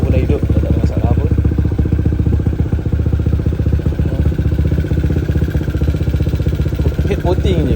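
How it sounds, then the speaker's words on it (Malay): A Yamaha LC135 motorcycle engine, set up to 63 spec with a ported head, runs steadily up close, giving a constant rapid clatter and whir for the whole stretch, with a faint voice briefly heard near the end. "So motor pun dah hidup, tak ada masalah pun."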